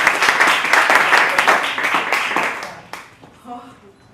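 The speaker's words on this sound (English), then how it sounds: "Come on, clap like she's your best friend." Audience at a live comedy night clapping loudly for a performer, dense applause that fades out after about three seconds into a quieter room.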